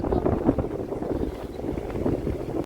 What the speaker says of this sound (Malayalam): നല്ല രസമാണ്, നല്ല തണലാണ്, നല്ല കാറ്റുണ്ട്.